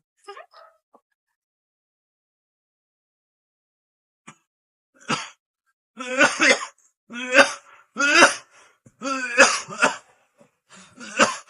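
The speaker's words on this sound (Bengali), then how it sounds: "কিরাম কাশি হয়েছে দেখিছো?" Dry, hacking coughs from a woman in a domestic comedy scene, a few faint bursts early, then a run of loud, close coughs and throat-clearing coming in quick clusters after a brief silence.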